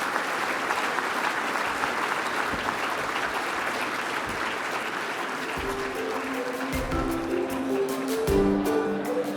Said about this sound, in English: Please join me in a round of applause for all those who have been involved in making this happen.